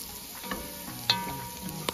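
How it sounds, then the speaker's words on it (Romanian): Mushroom risotto being stirred and sautéed in a pan with thyme, a continuous close sizzle under the scrape and clink of a spoon moving against the pan. "Și învârtind în continuu, mai călim în jur de 2-3 minute."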